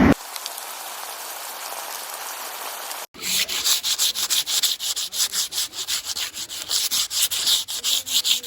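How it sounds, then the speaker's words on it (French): Barrier rails being sanded outdoors, a steady scratchy rubbing that starts abruptly after a few seconds of quiet hiss and keeps going in repeated strokes, close and fairly loud, with no voices. "Du coup, là, on va poncer les barrières là-bas."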